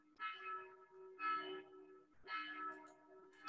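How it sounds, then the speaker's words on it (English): Church bells ring in a slow, regular series of three sustained strikes with a steady humming tone underneath, sounding distant and faint in an outdoor permaculture setting. "We have the church bells going."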